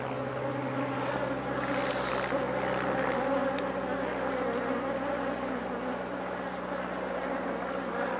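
Honey bees at a hive entrance, a dense continuous buzzing hum that stays steady throughout, with a faint high drone layered above.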